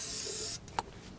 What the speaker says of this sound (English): A bit more carb cleaner.